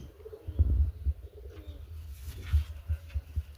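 A pigeon whose mate has gone missing coos in a low, throaty, repeated rhythm at close range, with a few soft chirps mixed in and no talk.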